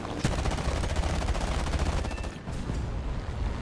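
Aircraft cannons of a LaGG-3-23 fighter firing in War Thunder, a continuous loud rattling stream of rapid shots over engine roar that eases briefly before resuming.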